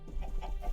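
Chickens in the video game Minecraft cluck in a short run of soft, close calls, several overlapping over a low steady background.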